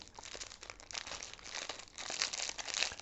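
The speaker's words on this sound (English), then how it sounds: "Let's wrestle this plastic bag open." Close, crackly crinkling of a plastic bag of snack cakes being pulled and torn open, with bursts of rustling that grow louder toward the end.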